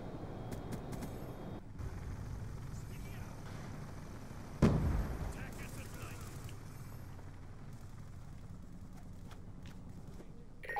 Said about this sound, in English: Hellstorm missile inbound.